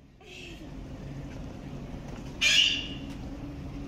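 Zoo bird gives a single loud, harsh squawk midway, standing out over a low murmur of background noise.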